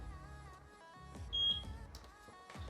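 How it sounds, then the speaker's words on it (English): A single short, high electronic sync beep from a eufy N140 pet camera treat tosser rises briefly over a background of music. "once you guys hear the beep"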